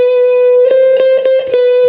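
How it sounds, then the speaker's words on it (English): A steady sustained guitar note rings while several quick plucked or scraped string sounds flicker over it, the pitch shifting slightly as strings are bent behind the nut. "bending on the other side of the nut to change the pitch of the note"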